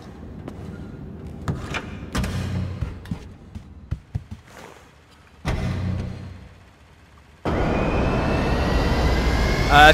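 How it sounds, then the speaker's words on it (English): Jet aircraft in GTA V Online, heard first as scattered clicks and door-like thuds, then a sudden loud, sustained jet engine roar that continues to the end, with no voices. "I'm actually going to grab a jet over here."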